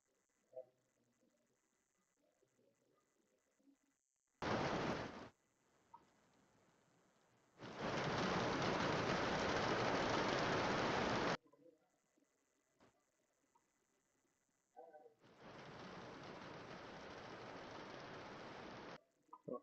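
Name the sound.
played rain sound recording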